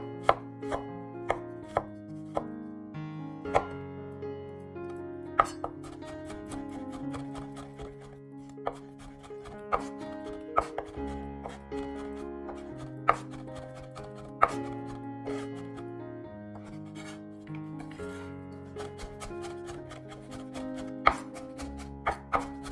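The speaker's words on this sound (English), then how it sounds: "I now chop garlic and shallots to fry in oil" Garlic and shallots are chopped on a board with a knife for a spring roll filling, a steady run of crisp, fairly quiet cuts with irregular rhythm, while soft music plays in the background.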